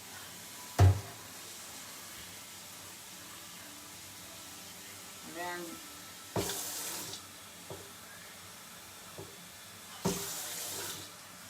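Water from a kitchen tap runs into a cooking pot of cabbage and collard greens in a few short bursts, with a louder knock at the start and quiet gaps between, while someone briefly speaks nearby.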